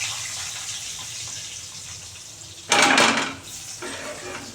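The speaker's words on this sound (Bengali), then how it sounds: "এবারে পেঁয়াজ দিয়ে দিচ্ছি 2খানা।" Two onions drop into hot oil left in a pan after frying fish, causing a sudden loud hiss that fades over about a second above a low background of kitchen noise.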